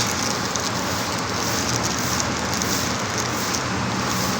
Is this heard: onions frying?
no